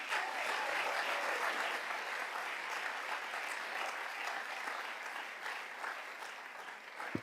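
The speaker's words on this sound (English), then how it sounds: "Please join me in a round of applause for all our retiring teachers and support staff" A school board meeting audience applauds retiring teachers and support staff with steady, dense clapping that holds for the whole stretch, fairly distant and even, ending in one sharp louder clap.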